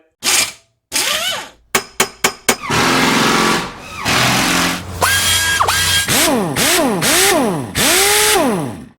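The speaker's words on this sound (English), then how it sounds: "talking about the Shelby Kicker 8-inch woofer speaker upgrade that'll take it from this to this" Car audio plays through stock and then Shelby Kicker 8-inch door speakers in a Mustang: loud electronic test tones, rising and falling sweeps and bursts of sound, separated by short pauses.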